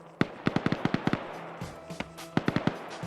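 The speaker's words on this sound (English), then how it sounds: "I was wondering what those mine explosions were." Mines explode in a large multiplayer online war game match, a quick string of sharp, crackling blasts. They come in two rapid bursts with a short pause between, fairly faint and a little distant.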